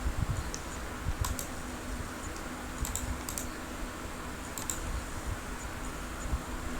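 Computer keyboard keys clack and a mouse clicks in scattered quick bursts during copy-paste work, close and fairly quiet over a faint steady fan hum.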